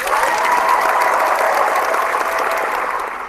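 A round of applause from a group in a room, a steady wash of clapping that holds for a few seconds and tapers off slightly at the end.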